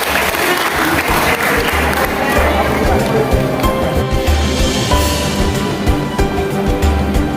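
Steady, loud applause from a ceremony audience honoring ten pregnant mothers at a Mother's Day commemoration in West Lombok, sustained throughout with some crowd noise and a voice faintly underneath.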